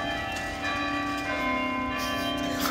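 The bell of Rouen Cathedral rings in a continuous sustained tone, its overlapping resonant hum filling the space steadily without a break.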